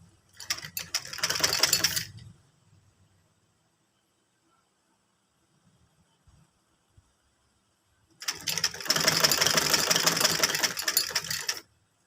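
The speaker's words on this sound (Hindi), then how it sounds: "लैस को इस तरीके से लगाते जाना है और स्टिचिंग करते जाना है" A sewing machine stitching lace onto a V-neck garment, two bursts of fast rhythmic mechanical clatter a few seconds each, separated by quiet handling sounds, close and without talk.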